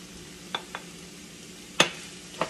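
Spinach added to a quietly simmering pot for a salt cod pâté kòde gets stirred, giving a handful of short, sharp spoon scrapes and taps spaced apart over a low, near-silent background.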